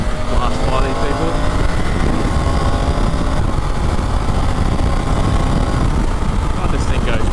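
A Triumph Tiger 900 Rally Pro adventure motorcycle accelerates hard while overtaking, its engine a steady loud drone mixed with heavy wind rush from onboard.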